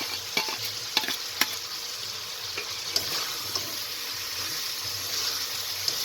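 Chicken sautéing in a pan with ginger, garlic, cumin and chili paste gives a steady close sizzle, broken by a few sharp clicks and scrapes of stirring, with no talk.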